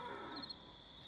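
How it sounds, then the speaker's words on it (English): A dog trapped in a barn growls in Red Dead Redemption 2, a low, rough, beastlike rumble, fairly faint and brief, with a short sharper burst near the middle and no voices. "That's a dog in there."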